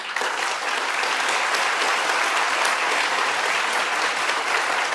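A studio audience at a televised youth discussion program with a speaker claps steadily, a thick, even wash of applause that holds at one level from start to finish.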